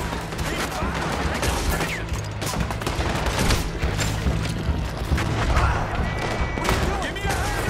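Heavy, sustained gunfight in Red Dead Redemption 2, with dense overlapping gunshots and volleys firing continuously at close range while voices shout over the shooting.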